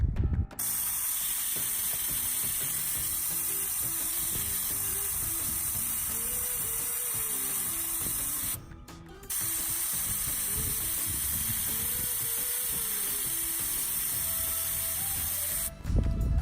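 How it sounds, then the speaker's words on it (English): Steady, loud air hiss from a 4WD tire valve letting pressure out during quick deflation, briefly stopping twice before resuming. "as we move this back, it lets the pressure down quickly"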